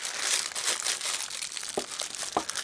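Plastic cash bag crinkling and crumpling as it is folded tightly over an object, a close, continuous rustle with a few sharper crackles near the end.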